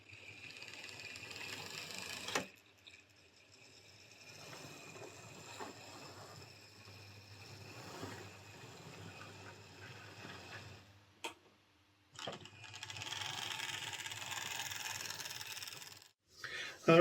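A Hornby 4F model locomotive shunts a Class 37, giving a faint, quiet whir of small gears and ticking mechanism that rises and falls, with a few sharp clicks and knocks along the way.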